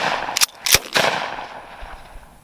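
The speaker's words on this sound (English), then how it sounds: "that's slam fire in the Model 12" Slam fire from an old Model 12 pump-action shotgun: a quick burst of three sharp, loud blasts at close range, each fading into an echoing tail, with no one talking.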